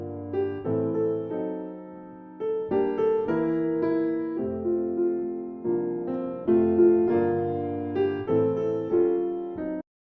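Solo jazz piano plays a rubato intro to O Christmas Tree, with free-tempo chords and melody swelling and pausing and no voices.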